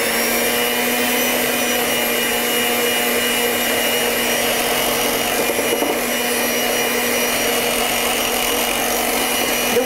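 An electric mixer whips cream, a steady, droning motor whine with a constant pitch that runs unbroken and fairly loud for about ten seconds, no one speaking.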